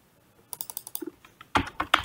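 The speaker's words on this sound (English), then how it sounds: "so I will type here sign up" Quick bursts of keystrokes on a computer keyboard, a run of light clicks followed by a pause and then a few heavier taps, close and clear with no talking.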